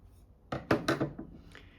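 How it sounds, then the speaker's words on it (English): Scissors cut through fabric for a boro zippered pouch: a few close, crisp snipping crunches in quick succession, then quieter rustling, with no talking. "I'm going to cut this one down the middle"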